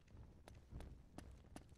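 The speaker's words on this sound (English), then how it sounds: "there's a horse." A horse in the video game Uncharted 3 clip-clops in a faint, irregular run of hoof strikes, about four sharp clops spaced under half a second apart over low rumbling.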